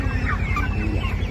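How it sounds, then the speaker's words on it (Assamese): A shed packed with meat chickens on a poultry farm in Assam gives off a dense, continuous chorus of clucking and chattering, close and crowded with no one speaking. "মুৰ্গী ভৰ্তি হৈ আছে"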